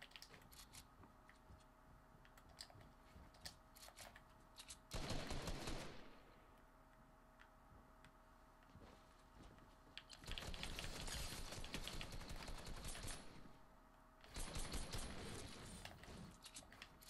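Fortnite Battle Royale gunfire comes in three faint bursts of rapid shots, a short one and then two longer volleys, set against a quiet background of game ambience.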